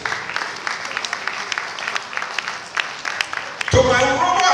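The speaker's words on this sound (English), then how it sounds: "Can we just give a round of applause" An audience at an evening of honor for a Lagos State deputy chief of staff applauds steadily. The clapping grows louder and denser near the end.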